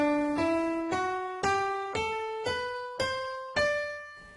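A D Mixolydian scale rising in eight evenly spaced plucked or struck notes, each ringing and fading before the next one arrives, clear and close with no voices.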